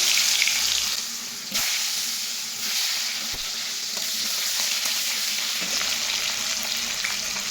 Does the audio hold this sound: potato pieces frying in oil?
yes